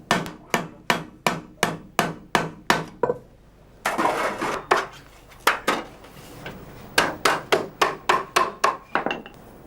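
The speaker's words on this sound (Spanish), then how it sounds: "En el yunque, a golpe de mazo, repasa el doble de la pestaña." Mallet blows on tin sheet over an anvil in a tinsmith's workshop, ringing in quick even bursts of about eight strikes, a pause with scraping handling noise, then another rapid run of close, loud metallic hits.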